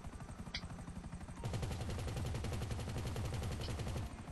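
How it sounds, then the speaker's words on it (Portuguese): The Akula helicopter's machine gun in GTA V rattles out a dense, rapid stream of shots, with lighter bursts early on before a sustained, louder volley that runs for about three seconds. "Metralhadora."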